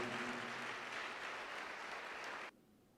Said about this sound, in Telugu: గట్టి చప్పట్లు కొడుతూ దేవునికి మహిమ చెల్లిస్తామా?